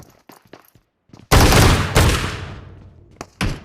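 Gunfire from an M1014 shotgun in BGMI on the Livik map: after faint taps, two loud close blasts ring out about half a second apart, each with a long decaying boom, and a sharper shot follows near the end.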